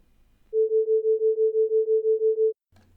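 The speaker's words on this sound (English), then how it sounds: "It creates just sort of a little pulse sound." A generated sine tone pulses in a smooth, even tremolo, about a dozen soft swells over two seconds, then cuts off abruptly into near silence.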